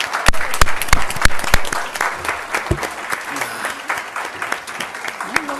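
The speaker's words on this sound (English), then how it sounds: "You may now applaud" Audience applause at a city council candidate forum in Placerville, lively uneven clapping from a modest crowd with sharp individual claps standing out, swelling early and gradually thinning, with some murmured voices underneath.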